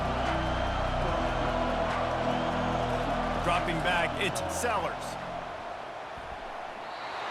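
A loud college football stadium crowd roaring behind the defense on third down in a Gamecocks versus Volunteers game, a sustained dense roar with a brief swell before easing, under a commentator's voice.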